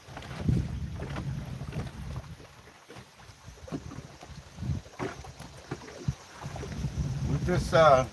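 Gusty wind buffets a microphone on a boat fishing from the bank of the Ohio River, a steady low rumble with surges, and a voice talks faintly underneath.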